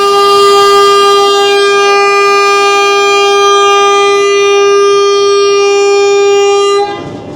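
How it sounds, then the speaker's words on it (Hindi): A Rawalpindi passenger train's departure horn sounds at a station, one loud, steady, sustained blast lasting about seven seconds before it cuts off abruptly, with no voices. "पहला डिपार्चर हॉर्न हो गया।"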